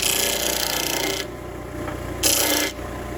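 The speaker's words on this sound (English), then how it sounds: "Let's try the disc sander." A disc sander rounds over a small wooden knob with a harsh, steady rasping, drops to a quieter hum partway through, then bites into the wood again for a short louder pass.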